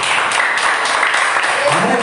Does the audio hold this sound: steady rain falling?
no